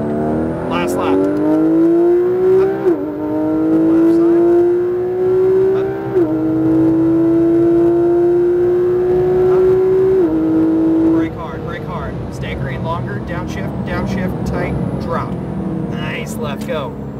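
A Porsche GT3 RS engine accelerating on a race track in Las Vegas, a loud, close sustained howl rising in pitch through several upshifts, then fading into lower engine noise, with talk from inside the car.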